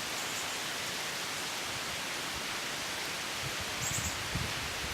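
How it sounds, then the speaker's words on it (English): Steady wind rushing through woods around a rural home set back from the road, a continuous broadband hiss with a couple of slightly stronger gusts toward the end, no talking. "There's a little bit of a wind here."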